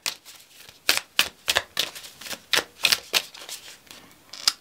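Tarot oracle cards shuffled by hand in a series of crisp, riffling bursts, close and clear, with short pauses between the flurries and no talking.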